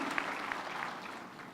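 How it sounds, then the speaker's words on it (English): Graduation ceremony audience clapping for a performing ensemble, a steady, fairly faint wash of many hands with no voices over it. "let's give them a round of applause,"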